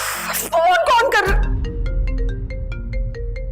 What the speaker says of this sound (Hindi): तुम्हें भी अभी फोन करना था मीसम।